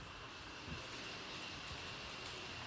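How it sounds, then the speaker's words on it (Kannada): Rain falls outdoors in a steady, faint, even hiss with a soft patter and a couple of small knocks close by, and no voices. "ಮಳೆ ಈ ಥರ ಬರ್ತಾನೆ ಇದ್ರೆ ನಾವೆಲ್ಲಿ ಹೋಗೋದು?"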